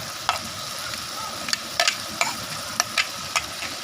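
Eel stir-fried with red curry paste, fresh chili, pea eggplants and basil sizzles steadily in a hot pan, with sharp spatula scrapes and clacks cutting through every half second or so, close and clear with no talking.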